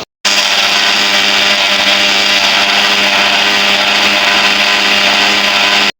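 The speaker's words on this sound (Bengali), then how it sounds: "আমি এখানে পেঁয়াজ, রসুন, কাঁচা লঙ্কা নিয়ে নিছি একসঙ্গে, এটা ব্লেন্ডার করে নিব।" A kitchen blender runs continuously and loudly, whirring as it grinds onion, garlic and green chillies into a paste, starting abruptly and stopping at the end, with no talking.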